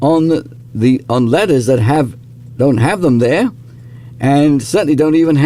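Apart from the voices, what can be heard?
No distinct noise like a dog, phone or traffic.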